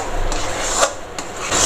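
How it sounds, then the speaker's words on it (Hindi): Khoa (mawa) is stirred and roasted in a pan, a close, continuous rasping scrape of the spoon against the pan, with a few sharper strokes and no talking. "इसी तरह से हम बराबर चलाते हुए भूनेंगे, चलाना छोड़ेंगे नहीं"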